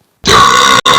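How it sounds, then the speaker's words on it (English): A loud burp blown through a burp trumpet, a single sustained blast of about half a second with a brief break, close and alone with no talk. "why don't you try this burp trumpet?"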